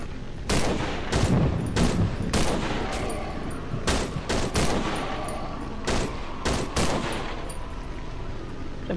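Rapid gunfire in the horror video game Cry of Fear, a steady volley of sharp shots with close echoing bursts repeating over several seconds and no talk.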